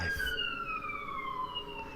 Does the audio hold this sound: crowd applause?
no